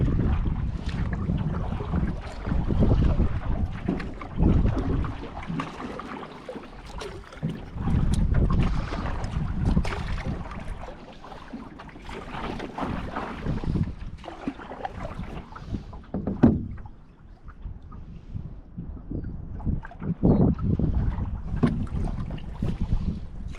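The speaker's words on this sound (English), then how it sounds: "we're catching some wind, so I'm going to paddle a little bit." Wind gusts buffeting the microphone out on a lake in a canoe at a provincial park, a loud, steady rumble with water splashing and paddling sounds and no talking.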